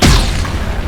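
A single loud, deep grenade explosion in the zombie shooter game Dead Effect 2 bursts at the start and rumbles away over the following second, with a dense low-end roar and no talking.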